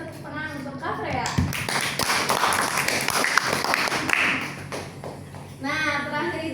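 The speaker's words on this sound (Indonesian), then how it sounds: "Kita kasih tepuk tangan untuk Kak Freya." A talk show audience at an end-of-semester assessment applauds Kak Freya with a loud, dense burst of clapping several seconds long, with speech just before and after it.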